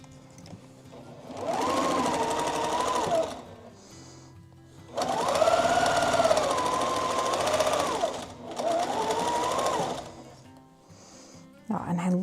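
Domestic sewing machine stitching flag quilt strips together in three close, loud runs of steady whirring, each a few seconds long, with brief pauses between.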